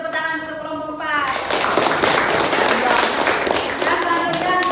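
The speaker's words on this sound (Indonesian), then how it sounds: "Beri tepuk tangan untuk kelompok 4." A classroom group claps for a presenting student group, applause rising after a brief opening of speech and continuing with mixed talk underneath.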